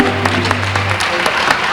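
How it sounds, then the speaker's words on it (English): An audience at an Irish festival gives a round of applause, a dense, steady wash of clapping heard close and filling the short moment, with a faint tonal hum underneath. "which give him a nice round of applause"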